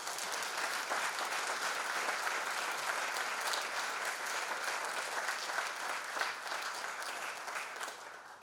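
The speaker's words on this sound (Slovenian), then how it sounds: "predlagam, da ga na tem mestu počastimo tudi z aplavzom" An audience at a 60th-anniversary ceremony for a disabled sports association applauds, a dense and steady burst of clapping that fades slightly at the end.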